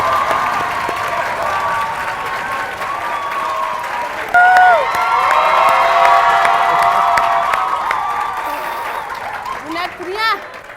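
A studio audience claps and cheers loudly to welcome a guest onto a French TV show, with whoops and a host's voice over the sustained applause.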